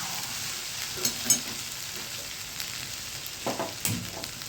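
A Gujarati spice tempering sizzles and fries in a hot pan with the gas switched off, a steady crackling hiss broken by a few sharper pops, with no voices.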